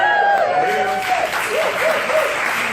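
Audience applause at a live product presentation, steady clapping filling the room while a voice carries over it.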